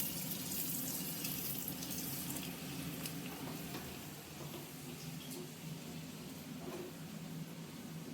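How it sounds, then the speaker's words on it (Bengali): Chopped garlic, ginger and green chilli frying in hot oil for Bengali-style Chinese chilli chicken, giving a steady, dense sizzle that holds throughout with faint stirring scrapes. "তেলের মধ্যেই আমরা এই যে রসুন কুচিয়ে রেখেছি, আদা কুচিয়ে রেখেছি আর লঙ্কা, কাঁচা লঙ্কা, এটা দিয়ে দেবো"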